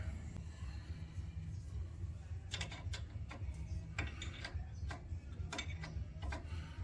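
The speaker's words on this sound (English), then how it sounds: "I don't need to get them tight, but I want to pull them in." A wrench pulling in the rear brake line fittings on a 1974 Pontiac Trans Am 455: soft, close ratcheting clicks in a loose, uneven rhythm over a low background hum, with no talk.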